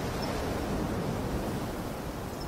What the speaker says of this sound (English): to the crashing waves of the ocean below